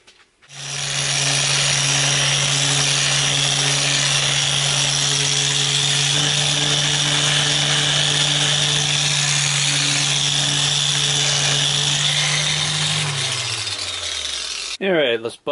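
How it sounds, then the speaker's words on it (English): Random orbital buffer polishing a cyanoacrylate super glue finish on a fretless bass conversion: a loud, steady motor whine and buffing hiss running continuously close up, then winding down with a falling pitch near the end. "Got my random orbital buffer tool here."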